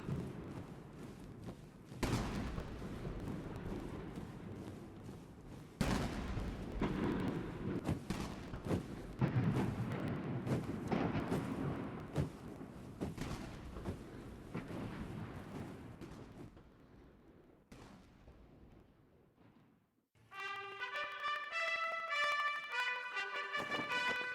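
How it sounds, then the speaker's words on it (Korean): An eighty-gun artillery salute booms across Tiananmen Square, deep cannon shots firing one after another, each blast rumbling out. A military band then strikes up near the end. "여든 발의 대포가 발사되는 속에"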